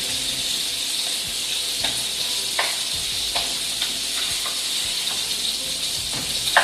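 Meat for a copycat Taco Bell Mexican pizza browns in a pan with a strong continuous sizzle and crackle, close up, punctuated by light spatula scrapes.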